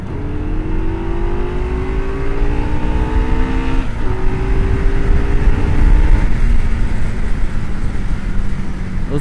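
An Indian Scout 101 motorcycle rides at a steady pace, its engine droning loud and continuous with a slight rise in pitch and gear changes, mixed with strong wind rush.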